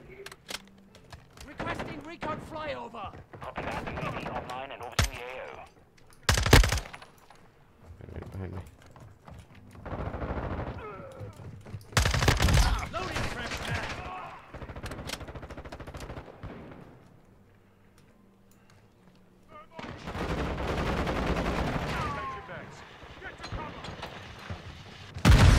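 Gunfire in Modern Warfare 2, bursts of automatic shots and sharp single cracks scattered among quieter stretches and chatter, with a few louder booms; a player talks intermittently over the action.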